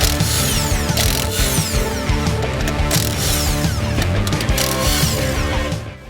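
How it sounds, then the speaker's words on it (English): Continuous mechanical ratcheting and grinding of a jack lifting a dual-axle 1970s Airstream trailer to remove a tire, loud and close, with a steady clicking texture throughout. "My plan is to just jack it up just enough to take the tire off"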